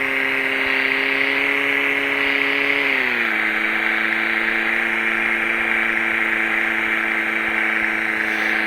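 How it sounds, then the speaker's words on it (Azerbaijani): A Vaz 2107 car engine idles steadily nearby, a constant hum whose pitch drops slightly and settles about three seconds in, with no speech. "Biraz motor böyle işləsin"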